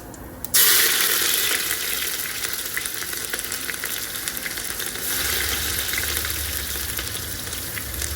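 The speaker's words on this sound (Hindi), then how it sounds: "तेल गरम हो गया है, मसाला डाल देती हूँ।" Spices crackle and sizzle loudly in hot oil for rajma, starting with a sudden burst that settles into a steady, close, continuous frying hiss.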